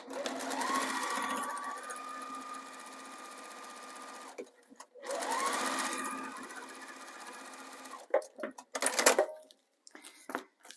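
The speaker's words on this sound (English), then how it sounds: "now I'm going to just top stitch on my lining only" Sewing machine top stitching through the lining of a zipper pouch, running in two steady whirring bursts of about four seconds each, then a few short stop-start stitches and clicks, close and alone with no talk.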